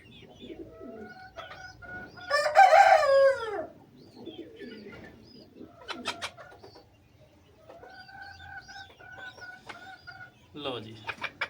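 Backyard chickens cluck and a loud rooster-like crow rings out near the start, with pigeons cooing nearby in a home bird setup during vaccination; scattered close calls continue and a voice speaks briefly between them.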